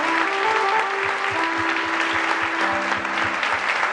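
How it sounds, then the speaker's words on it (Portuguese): Applause at a Catholic Mass for a baptism, a loud, steady round of clapping from the congregation with rhythmic low thumps and sustained organ or keyboard tones running underneath. "Vamos aplaudi-los."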